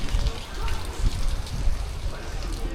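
Steady, dense hiss of heavy rain pouring down, with scattered louder splashes and low rumble throughout, and a faint voice mixed in.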